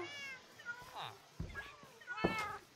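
Cats meowing inside a house in a video game, several separate mewing calls spread across the stretch with quieter gaps between, close and moderately loud.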